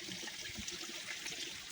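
Water splashing and trickling steadily as wheat grains are washed at home, a continuous close, moderately quiet wet swishing with no talk.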